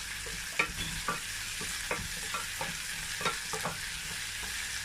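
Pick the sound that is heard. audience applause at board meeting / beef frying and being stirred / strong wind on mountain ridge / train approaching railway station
beef frying and being stirred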